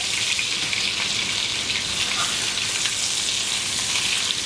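Chicken cutlets for chicken piccata sizzle steadily in a pan just after being flipped, a loud, even hiss of hot fat with no pauses.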